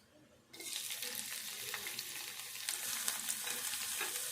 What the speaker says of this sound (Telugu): ఉల్లిపాయ ముక్కలు వేసుకొని